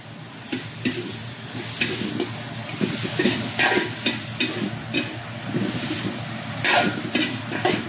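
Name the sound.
pork with ampalaya frying with soy sauce added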